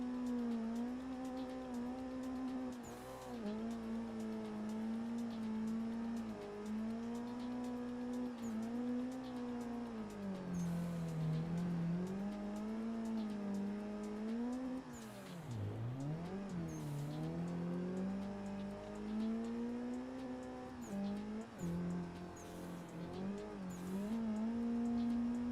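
Cars drifting in a racing video game on the Ebisu Minami course: engines rev and wail in long rising and falling sweeps, with tire squeal as the cars slide through the corners, loud and continuous.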